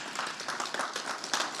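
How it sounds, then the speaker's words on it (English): An audience at a GAA club championship draw applauds with a steady patter of many hands clapping, brief and moderately loud. "Round of applause for the two lads there."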